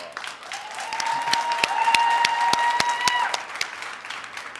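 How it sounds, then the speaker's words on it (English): Audience applause at a 2016 graduation ceremony, a dense steady clapping from a large crowd holding fairly constant for several seconds, with a few sharp individual claps and a faint whistle-like tone running through it. "That alone deserves an applause."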